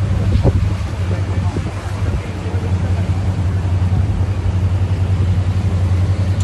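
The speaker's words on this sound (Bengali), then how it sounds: "এখন নৌকা ঘোরাচ্ছে" A boat turning on the water gives off a loud, steady low engine drone close by, with wind noise on the microphone and people talking over it.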